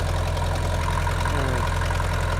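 A farm tractor engine idles steadily while warming up after a hard start, giving a close, even low rumble with a regular chugging beat and no speech.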